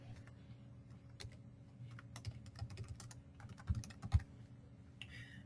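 Keys clatter on a computer keyboard as a name is typed, scattered quiet taps over a low steady hum, with no talking.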